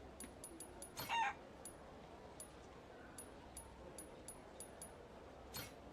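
A chicken in the Like a Dragon: Pirate Yakuza in Hawaii video game gives a single short, faint crowing cluck amid quiet background chirps, with no clear talking.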